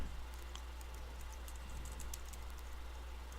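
Quiet, steady clicking of keys on a computer keyboard as a Linux command-line command is typed, a run of light taps over a low background hum.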